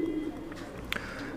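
Low, soft cooing of pigeons close by, with a faint rustle and a brief flutter partway through.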